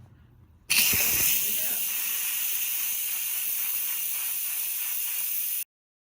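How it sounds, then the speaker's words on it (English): Steam jetting from the pressure vent of an Instant Pot as it is switched from sealing to venting, a sudden loud steady hiss that starts abruptly, holds evenly for about five seconds, then cuts off. "the last bit of steam is going, so we're just waiting so that we can naturally release pressure"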